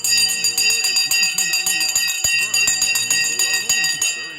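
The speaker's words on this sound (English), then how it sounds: "The bell has gone." A stock market opening bell rings loudly and continuously, its rapid repeated metallic strikes forming a steady clanging rattle that sustains for several seconds before tapering slightly at the end.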